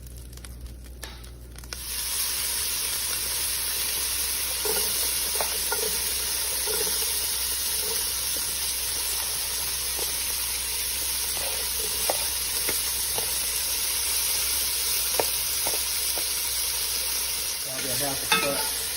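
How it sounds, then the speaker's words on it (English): Carrots, celery and onions sautéing in a pan with browned beef for a beef stew give a loud, continuous sizzle lasting many seconds, with scattered scraping stir strokes and light crackles and no talking. "We're gonna add our carrots, celery, and onions, and let that soak up some of that flavor."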